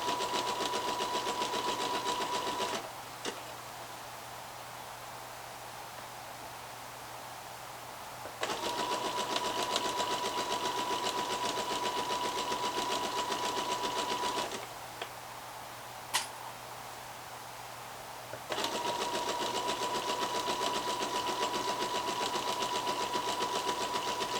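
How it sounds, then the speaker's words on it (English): A sewing machine runs in three long steady bursts while stitching the seams of Frances leggings, with a constant mechanical whir and brief pauses between runs, close and fairly loud, with no talking. "A little bit of backward stitching."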